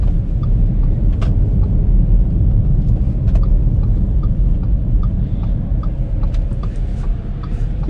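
An Audi A4 2.0 turbo drives over rough, deteriorating asphalt, producing a steady, loud low road rumble and engine drone that holds throughout with a few faint ticks and knocks from the cabin.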